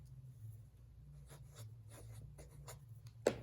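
Pencil writing an answer by hand on paper, soft scratchy strokes in short bursts, faint and close, ending with a small tap.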